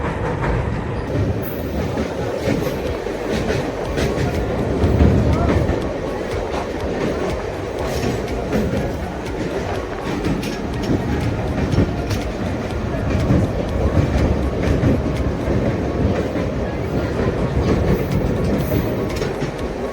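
A passenger train running toward Rameswaram over the Pamban bridge, a steady loud rumble of wheels and carriages with rhythmic clatter throughout, no pauses.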